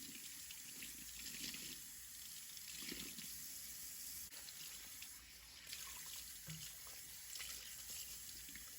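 Tap water runs steadily into a sink as a homemade Star Wars Rey Halloween costume is rinsed, a continuous close hiss with faint splashing changes and no talking.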